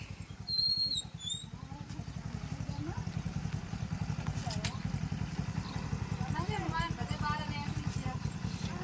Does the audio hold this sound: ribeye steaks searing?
no